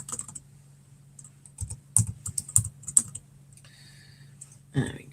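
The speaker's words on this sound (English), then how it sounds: "So I need to get my keyboard out." Computer keyboard typing heard close up, scattered bursts of quick key clicks with irregular gaps and a steady low hum underneath, ending with a louder thump.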